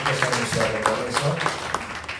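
A church congregation applauds in welcome at a Sunday worship service, with steady crowd clapping running beneath a voice as he keeps speaking.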